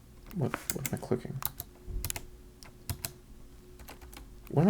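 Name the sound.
clicking computer keyboard keys while gaming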